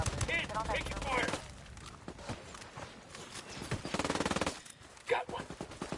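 Turret fire in the video game Ghost Recon Wildlands, with bursts of rapid gunfire among other game effects and background noise, including a sharp rattling burst near the end.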